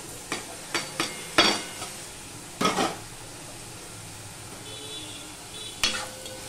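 Fried okra stirred into a thick masala in a pan, no onion or garlic, with several separate scraping and clinking strokes of a spoon against the metal over a faint background sizzle.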